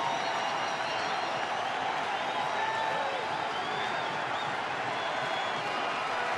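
A thinned-out baseball crowd cheering for Hanley Ramirez and the Dodgers, a continuous distant roar and murmur of the stands with scattered whistles and faint voices, steady throughout without any sharp peaks.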